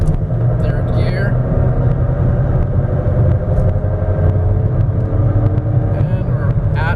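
A 2015 Jeep Patriot engine with five-speed manual transmission drones steadily while driving, with road rumble and a brief change in pitch as gears shift into third.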